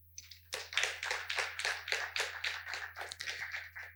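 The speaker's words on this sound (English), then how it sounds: "Let's give a huge round of applause for Chris." A small audience at a tech keynote event in Helsinki claps for a speaker, with distinct, close hand claps in a quick, uneven rhythm that stay fairly quiet throughout.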